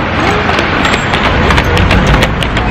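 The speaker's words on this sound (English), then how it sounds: "there is a horse here" Horse hooves clip-clop on a wooden street pier in Tasmania, a large, tall horse moving steadily and close by amid a loud, busy outdoor wash of noise, with faint voices underneath.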